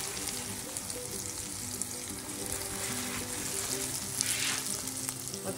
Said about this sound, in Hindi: बस इसमें मैं अभी थोड़ा सा तड़का लगाऊंगी।